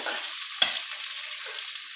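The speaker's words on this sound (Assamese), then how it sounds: "মছলাখিনি এতিয়া অলপ ভালদৰে ভাজি ল'ম।" Ground spice masala frying in a pan for a homestyle goat meat curry, with onions already browned: a steady close sizzle and crackle, with one sharp clink of the spoon or pan partway through.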